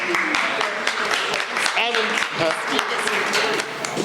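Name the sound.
audience applause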